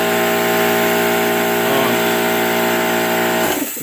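Makita MAC5200 air compressor motor running with a new run capacitor, a loud, steady drone with a constant hum, close by, that drops away near the end.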